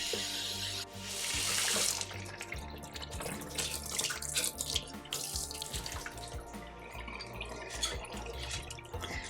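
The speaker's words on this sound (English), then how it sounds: "You just want to rinse them twice and just shake it well." Sprouts rinsed under a running kitchen tap, with a loud gush of water at first that settles into a steady splashing stream into the sink and some dripping.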